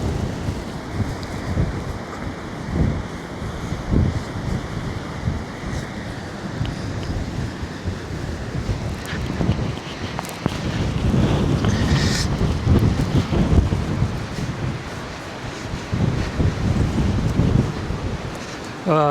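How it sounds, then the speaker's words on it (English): Strong wind buffets a sheltered microphone at a drizzly, windy seaside, a loud continuous rumble with gusts swelling and easing, a voice faintly present beneath the roar. "Yeah, it's very windy. I'm trying to shelter the microphone a little bit,"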